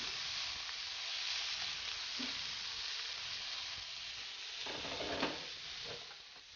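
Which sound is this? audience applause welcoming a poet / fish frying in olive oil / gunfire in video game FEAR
fish frying in olive oil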